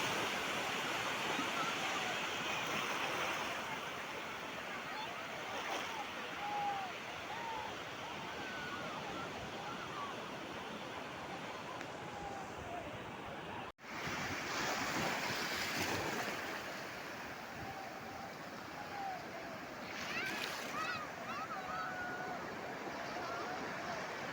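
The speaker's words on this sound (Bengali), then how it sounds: "সমুদ্রের ঢেউ দেখো ঢেউ আসতে ঢেউ আসছে ঢেউ আসছে আচ্ছা, বড় ঢেউ আসছে" Sea waves breaking continuously at Bakkhali beach, a broad steady roar of surf with wind buffeting the microphone, the wash swelling and easing over a long stretch with no talk.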